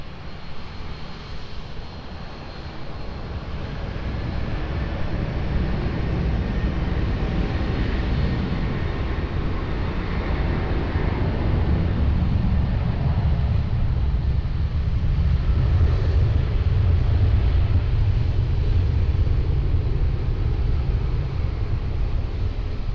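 A jet airliner taking off from runway 20 at Lisbon Airport, a broad low roar that builds and holds steady for over twenty seconds, heard from a distance with wind noise on the microphone.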